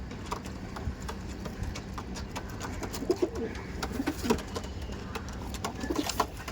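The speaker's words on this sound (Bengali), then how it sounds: "ये मेरा दूसरा कबूतर है" Madrasi pigeons coo softly in a loft, low repeated burbling calls under a steady background hum with occasional clicks and rustles.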